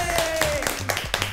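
Scattered claps from a small group in a studio at the end of a talk show, a few sharp separate hits mixed in with close voices talking over them.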